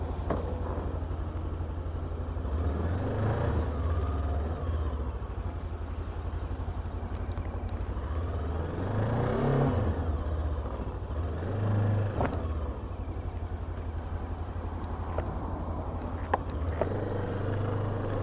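A Macbor Montana XR5 500 motorcycle engine drones continuously during a test ride, its low, steady rumble rising and falling slightly with throttle while wind noise rushes over it.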